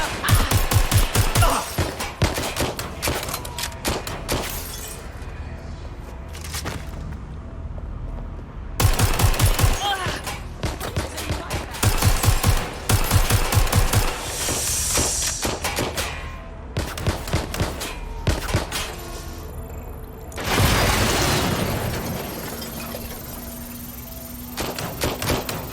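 Bursts of automatic gunfire rattle through a Watch Dogs Legion firefight, sharp rapid volleys recurring across the stretch with short lulls between, loud and close, with a voice speaking at times over the shooting.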